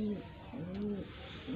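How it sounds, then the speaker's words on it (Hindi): A pigeon in a loft holding about twenty birds gives low, rolling coos close by, two or three drawn-out phrases in a row, with faint voices in the background. "ये दूसरा कबूतर है भाई, ये टोटल है 20 कबूतर है।"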